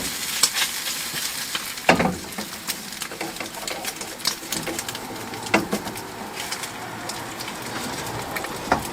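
Egg frying in a pan on a camping stove in a van, a soft steady sizzle with scattered crackles and small pops, faint and close, with no talking.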